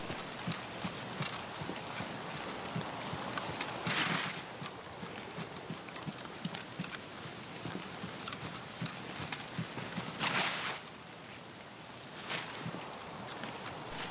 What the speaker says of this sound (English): I hear footsteps to my left.